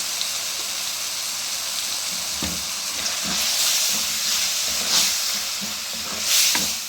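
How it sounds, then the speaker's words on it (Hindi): Turmeric powder frying in hot oil for a chana dal with ridge gourd dish, a continuous sizzling hiss with faint stirring clicks and swells of steam, close and with no voices. "हल्दी को अच्छी तरह भूनना चाहिए"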